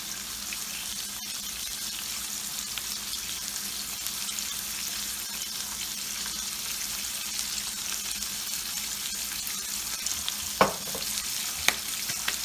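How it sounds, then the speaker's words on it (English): A tilapia fillet blackens in a hot pan with a steady, close, hissing sizzle that carries on without pause. A couple of light clinks of utensils break through near the end. "Okay, this tilapia has been blackening for a couple minutes."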